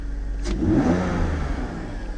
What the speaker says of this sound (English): Wow, that revs so much better.